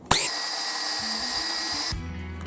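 A food processor pulses Oreo cookie crumbs with added butter, a loud steady motor whir running about two seconds before cutting off abruptly, with no talking.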